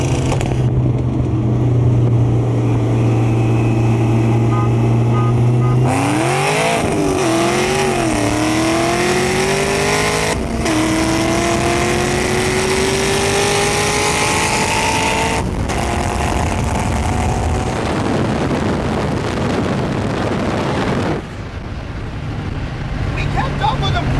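A roadster and an 800 whp Mustang GT500 race, engines climbing through gears in loud rising sweeps with shifts between, close and continuous, while people talk over the roar.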